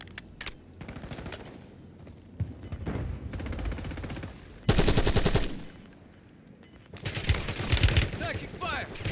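Automatic gunfire in a video game, long bursts of rapid shots, loud and close, with brief pauses between volleys.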